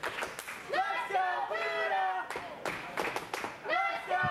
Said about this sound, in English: The crowd chanting, "Let's go, Buddah."